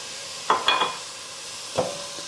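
Garlic sizzles in oil in a pot for a red lentil soup, a steady hiss broken by a few sharp spoon-stirring clinks and scrapes.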